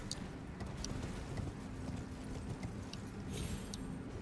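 A horse's hooves in the video game Elden Ring clip-clop in a quick, soft galloping rhythm, quiet and steady against a low rumbling background, with no speech.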